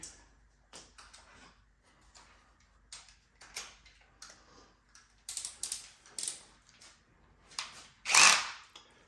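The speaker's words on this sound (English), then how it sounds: "buzz them in there with the electric screwdriver so that we don't strip anything." Short bursts of an electric screwdriver driving screws during a RZR drive belt install, whirring in and out, stopping and starting irregularly with small clicks between, ending in one longer, louder run.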